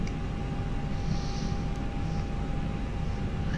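Simulated Airbus A320 engines roar steadily during a takeoff roll in a flight simulator game, a constant broadband rumble with no speech.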